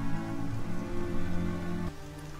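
Rain falls in the video game Horizon Zero Dawn as a steady, even patter under a sustained tonal backdrop that drops away briefly near the end.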